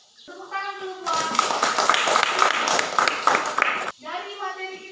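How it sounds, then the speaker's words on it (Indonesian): A school class claps hands together in a classroom, a loud burst of rapid, mixed clapping lasting about three seconds, with a voice speaking just before and after it. "Tepuk tangan dulu buat."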